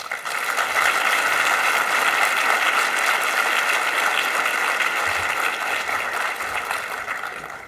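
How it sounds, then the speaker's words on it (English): An audience at a soil biodiversity science conference applauds a keynote speaker, dense sustained clapping that fills the hall for several seconds before slowly tapering off. "And give a big applause to him."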